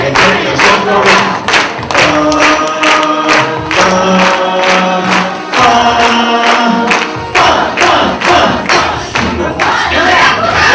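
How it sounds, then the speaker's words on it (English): Children at an early childhood conference clap their hands and stomp their feet in a loud, rhythmic pattern of repeated bursts, mixed with crowd voices and a sung tune. "Clap your hands and stomp your feet"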